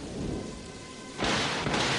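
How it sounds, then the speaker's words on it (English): A cartoon thunderstorm: a low, rumbling crack of thunder and a steady wash of heavy rain that suddenly swells louder midway, with no voices. "The crash of thunder, the howling of the wind, the gentle tapping of raindrops dancing on my paw."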